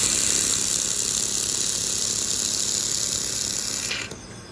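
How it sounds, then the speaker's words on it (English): A 1200 W laser welding machine joining two carbon steel plates at 10 mm per second, giving a loud, steady bright hiss and hum that runs evenly for about four seconds before cutting off. "Power 1200 watt. Welding speed 10 mm per second. Weld 2 carbon steel plates together."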